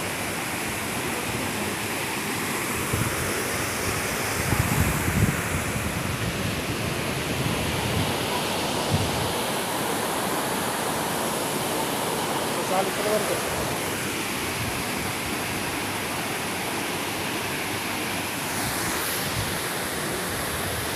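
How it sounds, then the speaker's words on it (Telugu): Neel waterfall in Rishikesh gives a constant broad rushing roar of falling water, steady and fairly even throughout, with a few faint voices under it. "సో ఈ వాటర్ ఫాల్ చాలా బ్యూటిఫుల్ గా"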